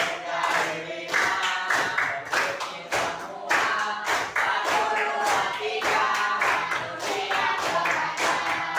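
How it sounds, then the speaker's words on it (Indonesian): A school class clapping in unison in a rhythmic counting pattern, sharp repeated claps in quick bursts, loud and close, with faint voices counting along beneath. "Tepuk jari 1, tepuk jari 2, tepuk jari 3, tepuk jari 4, tepuk jari 5."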